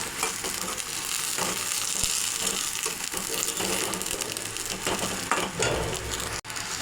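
Flat bean seeds fry in a dry pan while being stirred, a dense close crackle and scraping rustle that carries on steadily throughout with no voices.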